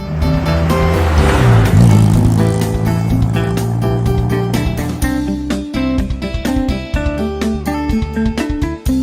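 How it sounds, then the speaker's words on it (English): A classic car engine rumbles loudly for about five seconds, a rough, steady low drone, before it gives way to upbeat music. "Classic car."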